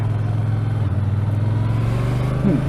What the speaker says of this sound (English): off we jolly well go for a little ride on the T120, the Triumph Bonneville T120 black